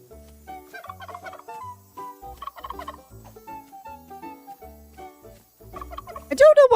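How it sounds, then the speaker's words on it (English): Turkey gobbling in the video game Luma Island, a bubbly warbling gobble bursting loud near the end over a soft plucked game melody and low bass tones. "that's a turkey, not a chicken. It's making turkey sounds."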